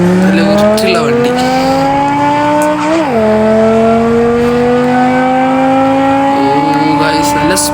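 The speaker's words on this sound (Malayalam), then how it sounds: "മച്ചാനെ എൻജിനൊക്കെ സെറ്റാക്കിയിട്ടുണ്ട് കേട്ടോ ഗായ്സ്. അതനുസരിച്ച് നല്ല സ്പീഡുണ്ട് നമ്മളെ വണ്ടിക്ക്." A modified car with a tuned engine speeds along, its engine droning loud and close with a steadily climbing pitch. A quick gear-change dip comes partway through, then the revs build again, and faint tire and road noise sit underneath.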